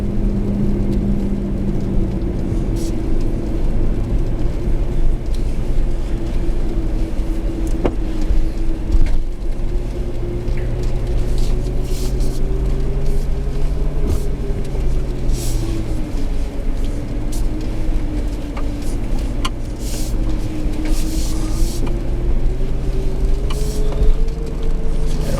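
A Lexus LX570 crawls downhill off-road in first gear on a trail, its engine droning steadily with a low hum and shifting tone, accompanied by faint rattles and crunches from the terrain.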